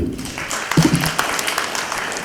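A brief round of audience applause for a singer at a cultural program, close and moderately loud, with a voice briefly audible over it.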